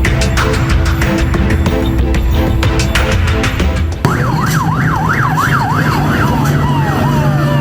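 A loud wailing fire engine siren sweeps up and down repeatedly, preceded by rhythmic horn blasts and a steady engine rumble close by, heading to a pine resin factory fire.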